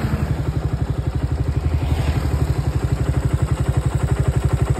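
A carbureted motorcycle engine fitted with a dB killer throbs loudly up close on a road with a rapid, even pulsing beat that holds steady throughout.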